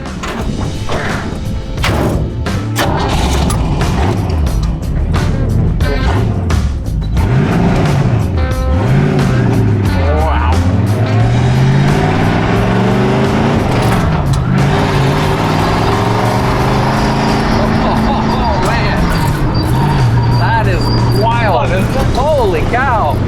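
A 1929 Ford hot rod truck engine revs hard while driving, loud and close, its pitch swooping up and down through gear changes, with a thump or two early on and people talking over it.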